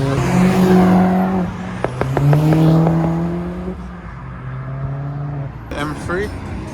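Cars drive past at a Japanese car meet in Reading, among them an A35 AMG and an air-ride Golf, with engine drones, some revving and a brief tyre squeal close by. Talk and crowd chatter run over the engine noise throughout.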